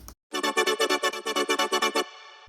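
A buzzy synth from Serum run through Logic's bit crusher, pulsing in about fourteen evenly spaced wobbling stabs with a gritty, harmonic-rich tone, then a brief sustained fading tail, loud and alone.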